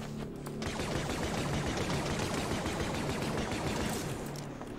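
Continuous blaster and gunfire in the Star Wars Deathtroopers shooter, a steady dense rattle of shots at moderate loudness with no pauses and no talking.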